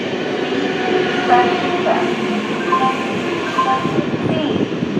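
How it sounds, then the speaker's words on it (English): A train rumbles steadily through platform 3 at Khardaha station, with a broad rolling roar and faint squeals, while indistinct voices and multilingual announcements sound in the background. "Through train which is passing from platform number 3"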